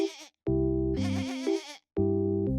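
A mischievous goat in Lagos bleats loudly and close up, with three long, wavering cries separated by short silences.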